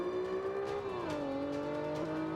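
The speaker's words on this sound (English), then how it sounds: "I didn't realize I was at the maximum revs there." A race car engine in the video game Forza 5 screams near its rev limit, a loud sustained whine whose pitch dips briefly and then holds steady.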